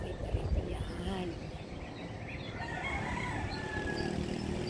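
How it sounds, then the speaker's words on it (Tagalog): Roosters crowing around sunrise in rural Aklan, Philippines, heard as faint, drawn-out calls over steady outdoor background noise, with a voice talking briefly near the start. "Habang tumitilawak ang mga manok."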